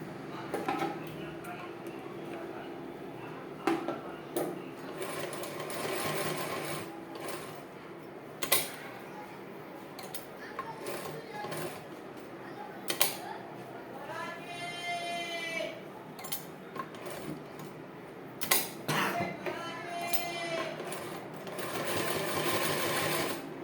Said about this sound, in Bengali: এইভাবে আমি পুরো রাউন্ডটা ঘুরিয়ে সেলাই করে নিচ্ছি।